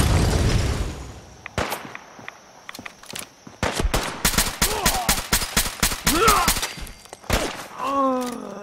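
Enemies fire at the player in Fallout 4's Far Harbor: a string of sharp gunshots cracks out, scattered at first, then a rapid volley of close reports, with thuds and movement between bursts.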